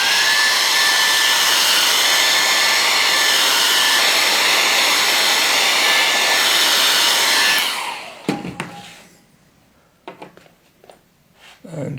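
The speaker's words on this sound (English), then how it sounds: "I could use a hairdryer again." A hair dryer blows loudly and steadily with a high whine, then switches off, leaving quiet handling clicks and light rustling.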